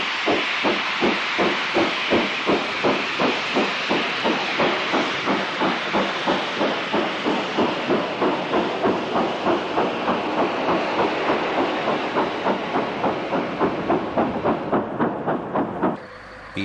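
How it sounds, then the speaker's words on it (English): Steam locomotive City of Nottingham departs south in 1964, its exhaust chuffing in a fast, regular rhythm of sharp hissing beats over a continuous steam roar that cuts off abruptly near the end. "City of Nottingham departs south in early 1964"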